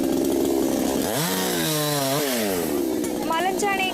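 A chainsaw cutting trees on a rocky hillside roars close and loud, its engine pitch dropping and climbing again as it bites into wood, with a voice speaking over it.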